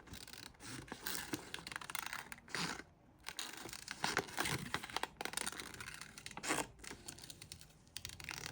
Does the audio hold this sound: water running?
no